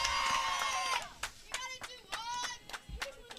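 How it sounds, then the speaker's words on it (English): Piketon softball team cheering and clapping from the stands at a high school baseball game against Huntington, with several bursts of claps and shouts, a high sustained cheer at the start, then scattered clapping. "Softball team here cheering on Piketon,"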